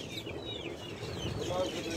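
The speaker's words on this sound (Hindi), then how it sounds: "देखो भाई मुर्गी," Chickens at a souk market in a busy outdoor stall, with faint clucking and a few brief high calls under a steady crowd murmur and background talk.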